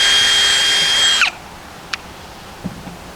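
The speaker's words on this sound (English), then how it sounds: "And I'll drill the opposite corner," A power drill boring through a flat part, running steadily for just over a second and then stopping abruptly, followed by a few faint clicks and taps nearby.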